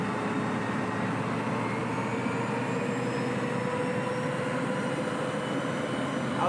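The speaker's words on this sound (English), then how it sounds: "Oh, the sound of the Valenta of the GNER HST departing Newcastle." Valenta engines of a GNER HST train departing Newcastle, a steady loud jet-like roar with rising whine throughout, no voices.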